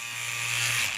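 A cheap Chinese-made Wall brand cordless hair clipper runs with a steady, close buzzing hum and rattle for about a second, then cuts off.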